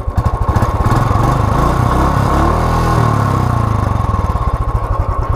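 A Royal Enfield Bullet on its stock exhaust idles close by with a heavy, regular thump, swells briefly as the throttle is blipped mid-way, then drops back to the steady beat, with no talk over it.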